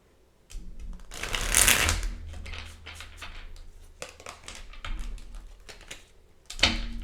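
Tarot cards being shuffled by hand, bursts of papery riffling and flicking snaps close by, with a louder riffle early and another near the end.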